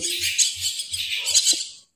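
A Javan myna chick, a young jalak kebo being hand-tamed, gives a quick series of loud, shrill chirping calls up close, alone and with no talking.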